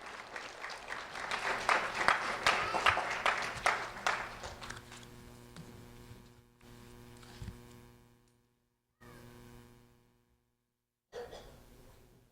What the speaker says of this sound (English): a round of applause for Halen McCoy